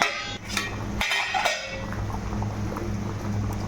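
A lid goes onto a pot of khichdi with a few quick metal clanks and clatters in the first moments, followed by a soft, steady simmering murmur from the covered pot.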